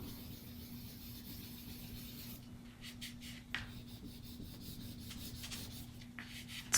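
A spoon rubbed across watercolor paper in a poppy painting, heard as quiet intermittent scraping strokes that start partway through and come in short bursts over a low steady hum, with no talking.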